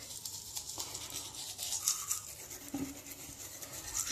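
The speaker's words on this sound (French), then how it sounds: "Donc on se brosse les dents comme ça," A toothbrush scrubs teeth dry without toothpaste, producing soft, quiet rhythmic bristle scratching close to the mouth, continuous and alone.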